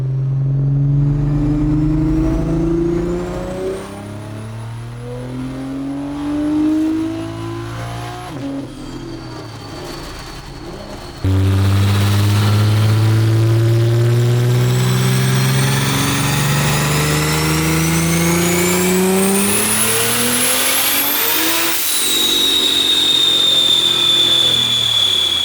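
BMW M240i G42 with a heavily tuned turbocharged engine making about 950 horsepower, on a dyno pull: loud rising revs through the gears climbing to a high scream, then a sharp drop at the end.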